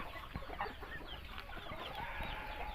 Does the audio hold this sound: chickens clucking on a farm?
yes